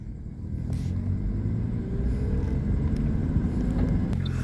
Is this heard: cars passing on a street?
yes